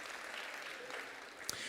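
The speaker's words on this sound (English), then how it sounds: "Give yourselves a little clap" A church congregation at a Sunday service giving a little clap, faint soft clapping heard from a distance, with one sharper knock near the end.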